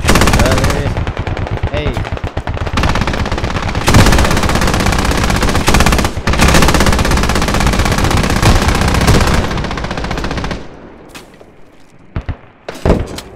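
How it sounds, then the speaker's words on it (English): Sustained rapid automatic gunfire in the military shooter Squad, aimed at a helicopter: loud, dense bursts for about ten seconds with brief gaps, then tapering into a few scattered shots, a short spoken exclamation cutting in. "Let's see if we can shoot that heli."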